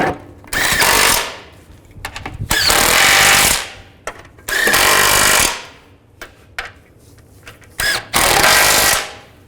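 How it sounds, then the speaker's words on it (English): A power tool drives bolts into the differential shield on a 2007-13 Chevy Avalanche, firing four loud, close bursts of rattling hammering separated by short quiet gaps. "put the bolts in, tighten it down"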